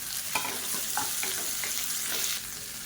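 Chopped onion and tomatoes sizzle as they sauté in a pan for chutney, a steady close frying hiss broken by a few scraping stirs.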